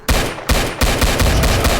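Loud rapid gunfire in the Roblox game Area 51, dense automatic bursts in close succession, starting with short volleys and then a continuous stream, no talk over it.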